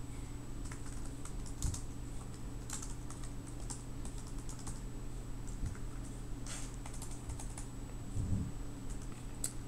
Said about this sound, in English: And if I keep typing on the laptop